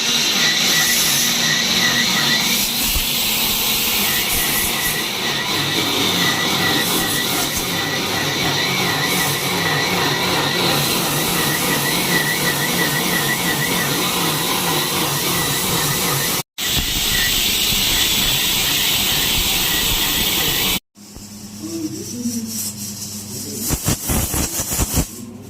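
Pressure cookers cooking mutton release a loud, sustained hiss of escaping steam with a pulsing rhythm. The hiss breaks off briefly, then resumes before fading into quieter kitchen clatter.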